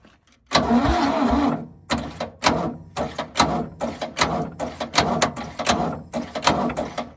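An old engine that has not run in 35 years cranks over repeatedly with a rapid, uneven chugging rhythm, loud and close, without catching.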